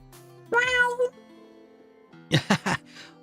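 A cat meows in the video game Trails of Cold Steel IV, one drawn-out tonal meow followed after a pause by three quick short mews in succession, clear and close over a quiet game background.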